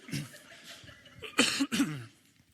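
Two short, harsh coughs close to the mic, following a few quiet breathy sounds.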